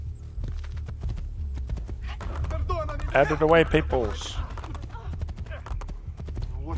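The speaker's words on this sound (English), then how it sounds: "I see a horse." Horse hooves clip-clop in a steady rhythm in the game Assassin's Creed II, running under character voices and game ambience, with a brief horse whinny in the middle.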